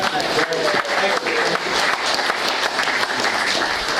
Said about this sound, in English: A round of applause for all these people.